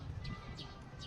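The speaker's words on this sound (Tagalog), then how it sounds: "Ayun, ang daming" Birds at a beach park in Yokohama, Japan, give three short, high chirps spaced about evenly, sitting above a steady, dense low rumble of outdoor background noise.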